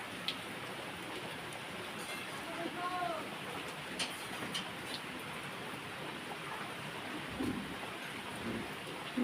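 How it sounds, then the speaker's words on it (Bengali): Steady rain falls on a morning of low-pressure weather, a soft, even hiss spread across the whole stretch with faint scattered drips and no clear voices. "সকালে বৃষ্টি শুরু হয়ে গেল।"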